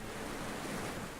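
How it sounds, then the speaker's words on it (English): Steady broadband rush of waves lapping together with wind moving through trees, continuous and even throughout, with no voices. "Behind the lapping of the waves and the wind in the trees"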